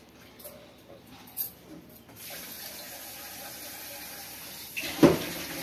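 Rice is washed in warm water in a kitchen, with a steady, moderately loud stream of running water and a brief louder splash near the end.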